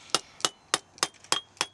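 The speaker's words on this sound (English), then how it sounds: "You'll start hammering that in, and then all of a sudden it'll get lower pitched." A hammer strikes a steel feather and wedge set into rock: six sharp, ringing metallic blows at an even pace, close and clear, each with a brief bright ring, with no talking.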